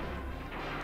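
A gunshot in the video game Dino Crisis 2, a brief dense boom with a heavy low-end rumble that fills the short moment at steady loudness.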